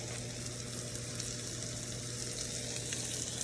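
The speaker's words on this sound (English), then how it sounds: "We got some potatoes cooking." Potatoes fry on a 36-inch Weber griddle set to medium, giving a faint, continuous sizzle with no pauses and no talking.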